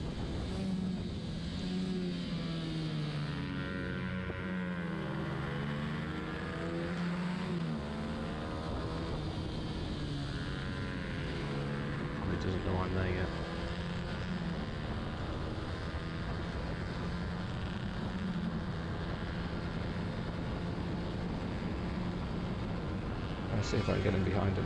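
A racing motorcycle's engine at Mallory Park roars continuously during a race, its pitch rising and falling through gear changes, while someone talks over it throughout.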